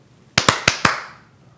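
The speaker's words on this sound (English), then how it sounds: "we got to both clap for this one" Two people clap their hands together in four sharp, loud claps spaced irregularly over about half a second, each ringing briefly in the room.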